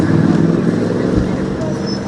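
Rumbling idling traffic jam of cars and buses held up behind a protest road blockade in the UK, steady and close, with voices talking over it.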